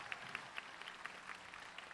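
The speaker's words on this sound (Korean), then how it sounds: "정말 멋진 무대에서 다시 한 박수 한번 보내주세요." Faint applause from an audience after a reunited band's performance at a 40th-anniversary show, steady clapping texture with scattered sharper claps over two seconds, distant and low in level.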